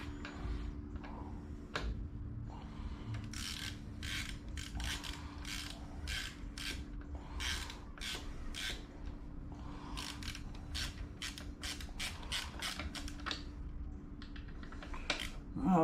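Ratchet tightening a bolt on a motorcycle during troubleshooting, with a long series of quiet close clicking strokes in uneven bursts over a faint steady hum.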